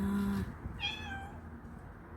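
A small kitten gives a single thin, high meow close by, in otherwise quiet surroundings.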